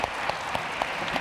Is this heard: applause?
yes